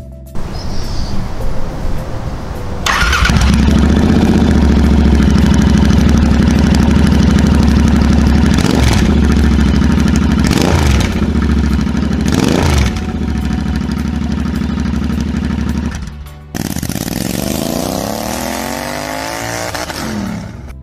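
A Royal Enfield Interceptor 650 with straight side pipes starts up and idles loudly with a deep, rough burble, punctuated by sharp revs, then shifts to a revving ride.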